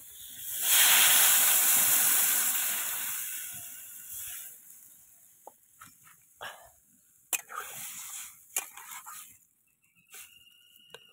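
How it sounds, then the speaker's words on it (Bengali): Water poured into a hot pan erupts in a loud, sustained hiss and sizzle while fish curry with eggplant and potato cooks, fading over a few seconds into scattered pops and crackles. "এবার জল ঢেলে দেবো।"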